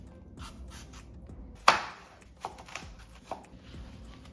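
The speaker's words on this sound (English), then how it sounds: "So let's get peeling and chopping." Sparse knife taps on a cutting board while chopping apples, with one sharp louder chop and a few lighter cuts scattered through an otherwise quiet moment.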